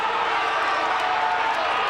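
A crowd of 40,000 roars at the start of a 1987 AFL match between Melbourne and Collingwood, a loud continuous wall of cheering with no breaks.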